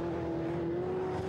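A Chevrolet race car at Silverstone in a heritage touring car race, accelerating toward Abbey. Its engine holds a steady, continuous drone, fairly close and loud, with no voices over it.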